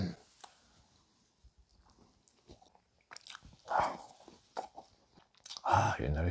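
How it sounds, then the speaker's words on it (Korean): A microwaved frozen dumpling from a military PX store, its wrapper slightly hardened, is bitten and chewed close to the mic, with soft crunches and mouth sounds between quiet pauses and a couple of louder bites. "우선은 만두 하나를 먹어보도록 할게요"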